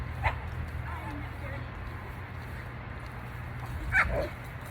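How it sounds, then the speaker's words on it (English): Dogs bark a few times somewhere nearby, one short bark early and a louder yelping bark later, over steady outdoor background rumble. "Got some dogs over there."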